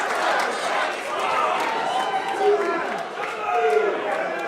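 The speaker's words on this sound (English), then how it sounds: "Listen to this crowd." A pub crowd at a wrestling show at Scully's pub keeps up a steady roar of chatter and cheering throughout. It comes with faint movement noise, and no single cheer stands out from the rest.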